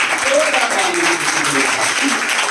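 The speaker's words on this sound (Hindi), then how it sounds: "एक जोरदार ताली यीशु मसीह के लिए आपके साथ।" A church congregation claps loudly during a service, the applause steady and continuous under a voice speaking over it.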